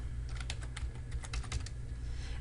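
Typing on a computer keyboard, a quick steady run of key clicks heard over a constant low background hum, with no talk.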